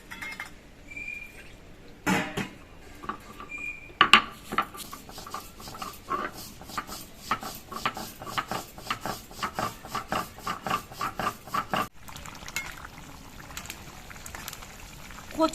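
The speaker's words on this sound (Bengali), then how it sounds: "এইদিকে আমি ভাজা কালো জিরেগুলোকে বেটে নিচ্ছি" Fried black cumin seeds being ground on a grinding stone, heard as quiet, rhythmic rasping scrapes repeating steadily for several seconds, with a few sharper knocks at the start.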